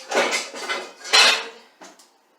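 Ceramic bowls clinking and knocking as they are stacked on one another in a kitchen, a few close, clattering contacts in quick succession, louder in the middle, with no talk.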